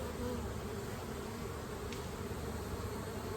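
Honey bees buzzing around an open hive during an inspection, a steady close swarm hum with no talk, constant and moderately loud.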